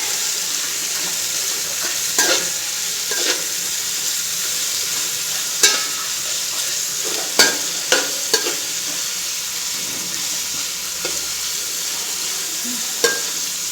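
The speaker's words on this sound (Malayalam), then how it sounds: "ഇത് നല്ലപോലെ ഒന്ന് വഴറ്റിയെടുക്കുക." Pepper chicken curry ingredients sizzle steadily in a pan while a spoon stirs them, with occasional scraping clicks and knocks over a continuous frying hiss.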